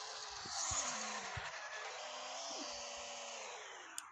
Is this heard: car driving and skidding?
yes